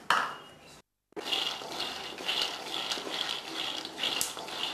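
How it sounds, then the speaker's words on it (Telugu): A gas stove clicks on, then peanuts are tipped into a pan for making chikki, rattling and rustling continuously after a short silence. "ఇప్పుడు స్టవ్ ఆన్ చేసుకొని పల్లీలు వేసుకోవాలి"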